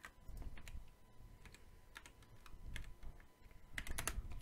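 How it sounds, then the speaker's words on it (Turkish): Rapid clicking of a computer keyboard as someone types a short message into chat during a Roblox game, steady close keystrokes alone without talk. "Squat yazayım şöyle chat'e."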